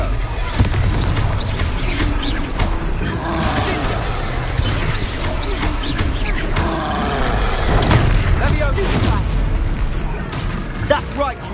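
Fiery Confringo spell blasts and booming impacts from the Hogwarts Legacy video game in a hectic duel, dense crashes and bursts layered under continuous character voices shouting.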